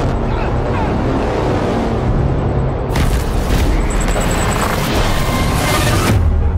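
A giant explosion in the video game Death Stranding, a sudden loud, broadband blast that breaks into a rumbling roar over continuous low background noise, then cuts off abruptly near the end.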